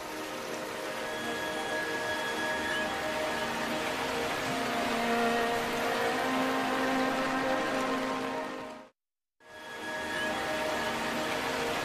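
Steady rain falls in the wild, a dense even hiss that holds for several seconds, cuts out briefly to near silence, then resumes just as before. No one speaks.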